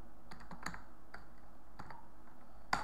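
Keys tap on a computer keyboard while a basic web page is coded, a few quick irregular clicks in short bursts, close and fairly quiet.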